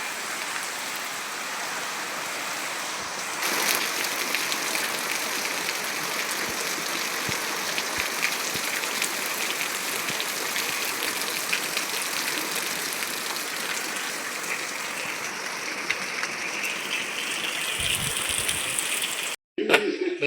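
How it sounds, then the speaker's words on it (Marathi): Heavy rain pours down steadily as a dense, continuous hiss, loud and close throughout, with a brief dropout near the end. "पाऊस पडतोय."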